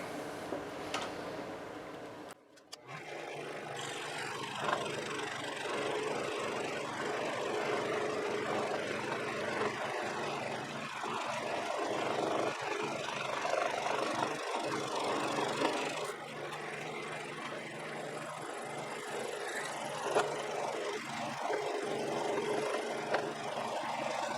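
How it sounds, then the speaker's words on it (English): An oscillating sander smooths the curves of wooden mainsheet traveler brackets, giving a steady, fairly loud whirring drone that starts after a brief pause and continues unbroken to the end, with light rasping variations as the piece is worked. "We'll then head over to my oscillating sander, and we can clean up those curves."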